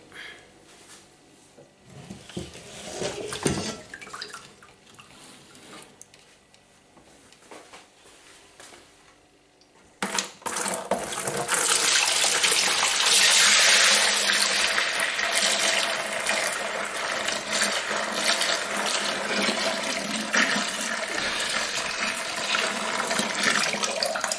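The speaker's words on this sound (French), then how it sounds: "Et maintenant, on vient le mettre dans la cuve de fermentation." Honey beer concentrate pours into a fermentation tank, quiet handling sounds first, then a sudden loud, steady rush of liquid splashing and gushing that continues to the end.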